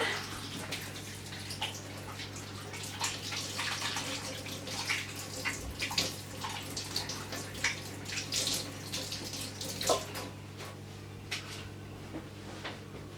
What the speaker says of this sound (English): so I'm going to wash off my hands, some soap.